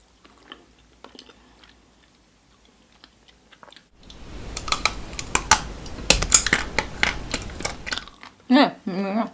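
Taro-flavoured mochi ice cream with strawberry filling being chewed close to the microphone: quiet ticks at first, then a dense run of soft sticky chews and clicks, ending with a brief burst of handling.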